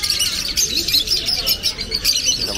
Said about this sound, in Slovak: To má nejaké veľké papagáje.